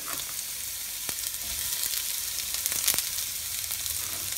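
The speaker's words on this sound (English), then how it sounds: "Get it nice and hot always. You want to hear the sizzle" Onions sizzle and crackle in hot oil, a steady close hiss with scattered pops, no talking.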